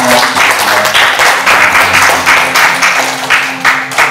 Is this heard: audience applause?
yes